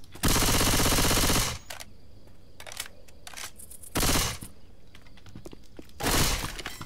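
A Mac-10 fires in a Left 4 Dead 2 mod, three loud bursts of rapid automatic fire, the first longest, each followed by scattered clinks of falling shell casings.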